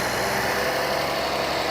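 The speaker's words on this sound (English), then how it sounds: "I love the sound of the starter motor." A Rolls-Royce Dawn's engine runs with a smooth, steady low hum close by after the starter turns over, continuous and even with no talking.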